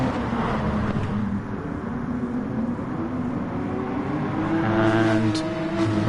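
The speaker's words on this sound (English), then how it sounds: "You see the Porsche's just sliding ever so slightly through that corner. Into the chicane. Hard braking." A Porsche Cup race car sliding through a corner and braking hard into a chicane, its engine a steady mid-distance drone with shifting pitch and no clear passes, running continuously without talking.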